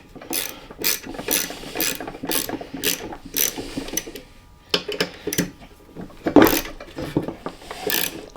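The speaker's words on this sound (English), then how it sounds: "Now, just take our little Allen wrench. We're gonna snug this lock collar down." An Allen wrench tightens a lock collar on a Cub Cadet 582 clutch build, giving a series of short, uneven metallic ratcheting clicks and scrapes, close by with brief pauses between turns.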